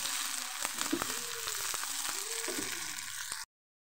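Green chilies and onions sizzle in hot mustard oil, a close, steady crackle with occasional sharp pops and a few stirring sounds, then it cuts off abruptly.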